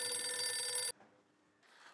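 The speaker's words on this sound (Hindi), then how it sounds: "नलिनी पुत्र, मैं कब से तुझे फोन पे फोन किए जा रहा हूँ, तू फोन नहीं उठा रही है" An electronic phone ring, bright and loud, sounds for just under a second before cutting off abruptly, leaving faint room tone.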